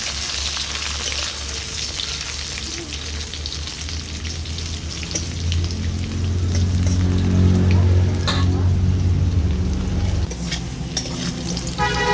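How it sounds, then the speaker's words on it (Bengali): Potatoes fry with salt and turmeric in a pan of oil already used for frying fish, giving a continuous sizzle with stirring scrapes and a low steady hum that swells midway and then eases. "আলুটাকেও ভালো করে ভেজে নেব"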